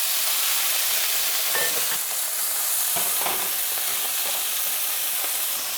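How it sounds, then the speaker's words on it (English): Potatoes for home fries sizzle loudly in hot oil in a skillet, a steady broadband hiss with occasional louder spatters and crackles throughout. "Okay, our oil is hot, and now we are going to add the potatoes"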